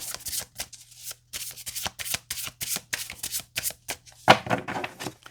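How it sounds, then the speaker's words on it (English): Tarot cards are shuffled repeatedly in quick riffling bursts, each a short papery flutter separated by brief pauses, close and clear. "Just fast forward the shuffle. I can't skip it, and I like to shuffle on camera."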